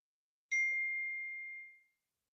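Phone text message notification, a single clear bright ding ringing out and fading over about a second and a half in otherwise silent surroundings.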